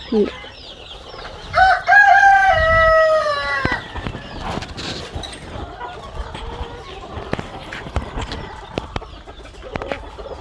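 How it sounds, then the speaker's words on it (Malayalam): An Aseel-type Tamil Nadu fighting rooster crows loudly and close, a long rising call, followed by scattered clucks and scratchy movement from the flock of fowl around it. "ഇത് തമിഴ്നാടൻ അസീൽ പോലെ കോഴിയാണ് കേട്ടോ. കൊത്തുകോഴികൾ, തമിഴ്നാടൻ കൊത്തുകോഴികൾ."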